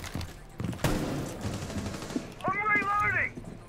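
Gunfire in the tactical shooter Rainbow Six Siege, a sharp shot near the one-second mark among scattered impacts, mixed with people talking throughout and a brief warbling electronic tone near the end.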